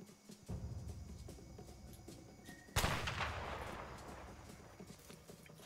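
Gunfire from the video game A Way Out: a sharp, loud shot bursts out near the middle and leaves a long rumbling tail, over steady game ambience and faint earlier pops.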